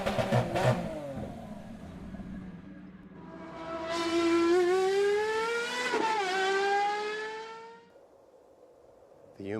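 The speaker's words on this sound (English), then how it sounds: "He then gets into their car and drives away" A car starts up and drives away in a desert scene from Neil Breen's film I Am Here, its engine revving up loudly and then fading as it pulls off, with a brief voice at the start.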